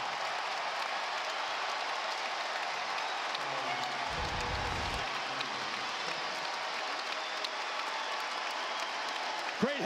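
Basketball arena crowd at an NIT game roaring in a steady, dense wash of cheering and applause that holds loud and unbroken throughout, with a brief low rumble midway.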